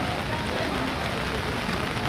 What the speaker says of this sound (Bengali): আজকে প্রচন্ড বৃষ্টি করতেছে।